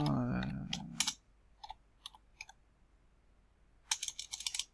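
Quick bursts of typing on a computer keyboard, a few short clusters of light close key clicks after a brief spoken voice at the start, ending in a denser flurry of taps.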